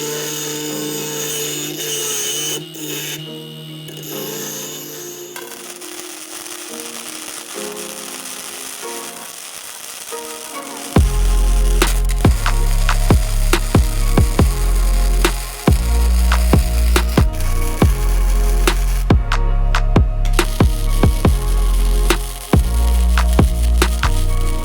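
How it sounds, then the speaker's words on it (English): An angle grinder cuts into the corners of steel square tubing for a homemade ice resurfacer, starting as a softer whirring and then becoming a loud, harsh, sustained grind with brief breaks. "I got to grind out the corners to fit in the square tubing properly"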